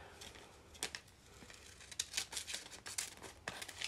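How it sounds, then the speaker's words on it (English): Scissors snipping through a sheet of crafting material for a shaker card, a quiet, close series of irregular crisp cuts and rustles over about four seconds. "I have to cut it from its back."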